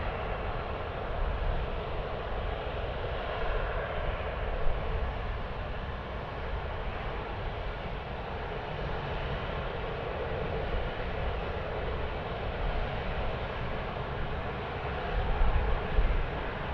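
A plane landing at Sydney Airport gives a steady, loud broadband roar of jet engines that holds for the whole stretch and swells slightly near the end, with no talking.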